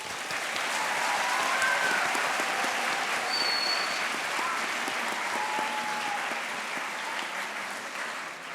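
Sustained applause from a conference audience at an opening plenary session fills the whole stretch, a dense, steady wash of many hands clapping that stays loud throughout with only a slight easing toward the end.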